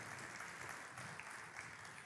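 A church congregation applauds together, a dense, steady wash of clapping that holds at an even level throughout, with no voices standing out.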